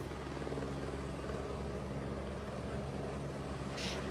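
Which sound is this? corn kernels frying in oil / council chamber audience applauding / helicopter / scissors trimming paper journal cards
helicopter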